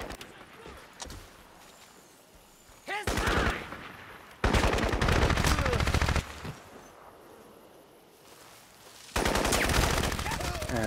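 Bursts of automatic gunfire from enemies and the player in the video game Crysis, with three loud sustained volleys separated by quieter stretches of ambient game sound.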